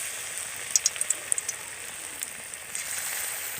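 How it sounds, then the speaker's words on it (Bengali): Chicken pakoras deep-frying in hot oil over a high flame give a dense, steady sizzling hiss, with a few sharp pops and crackles standing out near the start. "এবার আমি পকোড়াগুলো ভেজে নেব।"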